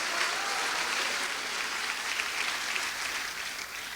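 A church congregation applauds in praise, sustained dense clapping heard at moderate distance that holds steady throughout before easing slightly at the end.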